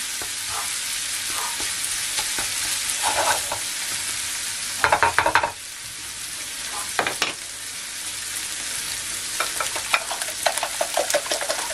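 Food sizzles in oil in a frying pan over moderate heat, a steady crackling hiss with louder bursts of spatter and stirring scrapes, close up, with no talking.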